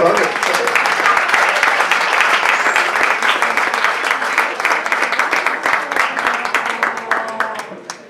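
A theater audience at a comedy monologue applauds with dense, rapid clapping that holds steady and then gradually thins out and fades toward the end.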